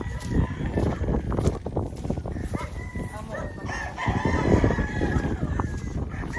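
A rooster crows among clucking fowl, with overlapping calls from several birds nearby and some background chatter.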